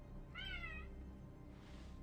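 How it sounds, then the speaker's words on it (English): A loud cat meows once in a clear, wavering call lasting about a second, heard close over a low steady background hum, with a softer breathy noise following near the end. "that is a loud cat."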